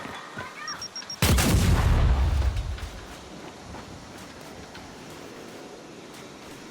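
A frag grenade goes off in the video game Gears 5, one loud, booming blast that cuts in suddenly and fades into a low rumbling tail over a few seconds.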